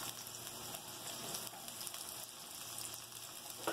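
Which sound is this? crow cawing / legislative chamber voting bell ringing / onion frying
onion frying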